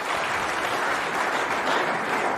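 A packed crowd at the World Snooker Championship 2023 applauds steadily as Joe Perry is introduced for his walk-on before his first-round match against Robert Milkins. The clapping is dense, continuous and loud.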